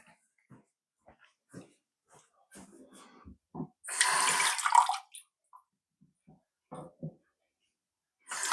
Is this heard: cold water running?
yes